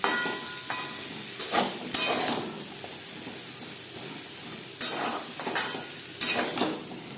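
Pointed gourd and potato pieces frying in a pan hiss with a steady low sizzle, broken by a few bursts of a spatula scraping and stirring against the metal, with no talking.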